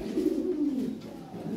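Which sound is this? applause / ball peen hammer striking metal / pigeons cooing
pigeons cooing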